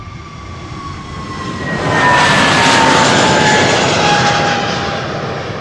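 Airliner jet engines roar loudly at Amsterdam Schiphol Airport, swelling to a peak around two seconds in and holding a broad, steady rumble with a whining tone sliding across it, with no talk over it.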